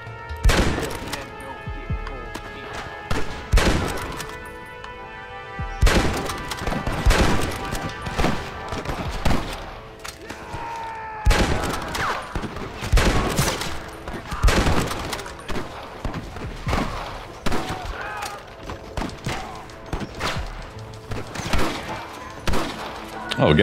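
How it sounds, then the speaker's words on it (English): Gatling gun fire in Red Dead Redemption on Xbox One X, heard as repeated loud bursts of rapid shots and heavy thuds mixed with other game effects across the whole stretch. "Oh, a Gatling gun. Nice."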